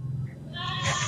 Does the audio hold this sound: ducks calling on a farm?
no